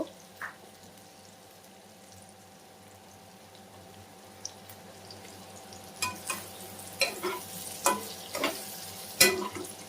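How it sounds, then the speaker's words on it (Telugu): Bitter gourd (kakarakaya) fries in a pan with a steady low sizzle, and a spoon scrapes and stirs it in short, louder bursts through the second half. Nobody speaks. "ఇలా ఫ్రై చేసుకుంటూ ఉండాలన్నమాట"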